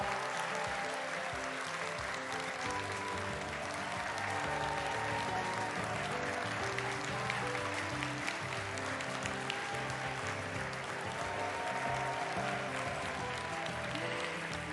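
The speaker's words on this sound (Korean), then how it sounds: "박수가 끊이지를 않네요." A studio audience at a Korean counseling show applauds continuously, a dense, even wash of clapping that holds steady without pause, with some music or voices faintly beneath.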